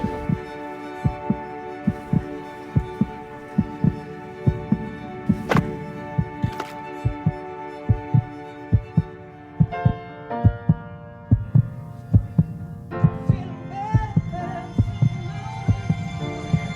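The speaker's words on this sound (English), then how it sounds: "This song was created with heartbeats of children in need." Recorded heartbeats of children form the beat of a song, a steady run of soft, close thumps that repeat through the piece beneath sustained humming tones and layered melodic notes that thicken toward the end.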